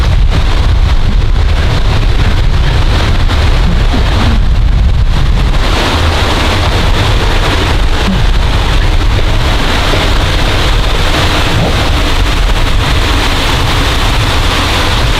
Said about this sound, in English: You can hear the water running.